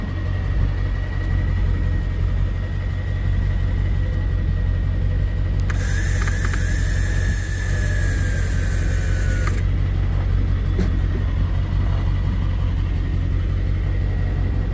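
A winch drags a crashed jeep onto a truck, grinding with a steady mechanical drone under a constant low engine rumble, with a higher ratcheting whine rising partway through.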